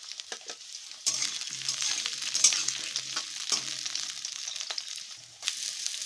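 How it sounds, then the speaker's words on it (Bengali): Potatoes fry and get stirred in a pan, with a steady close sizzle and intermittent scraping and clinking of the stirring utensil throughout. "আলুটাকে একটু নাড়াচাড়া করে নিয়েছি"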